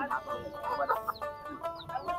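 Chickens cluck and squawk in short, uneven bursts at a busy chicken market. The fowl sound close by and fairly quiet.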